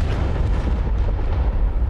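A warship explodes during a naval battle game, a deep, continuous rumbling boom that rolls on for about two seconds with a heavy low-end roar and no voices.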